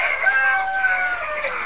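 Tiger breed chickens and young chicks at a poultry brooder, a thin high cheeping and clucking held in a few sustained calls, close and fairly loud with no voices.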